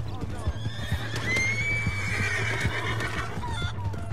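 A horse whinnies in Red Dead Redemption 2, a rising, drawn-out cry over a steady low hum, with faint hoof clatter and scattered background noise.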